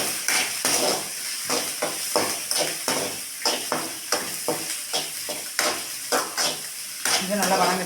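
Onion, chana dal, cumin, pepper and fenugreek sauté in a pan, with a spoon scraping and stirring in regular strokes over a constant close sizzle.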